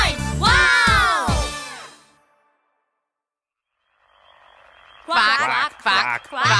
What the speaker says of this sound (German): Quack, quack. Dann springen vier, fünf, sechs Frösche hoch.